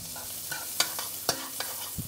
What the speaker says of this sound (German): Da gebe ich jetzt als erstes die Zwiebel hinein.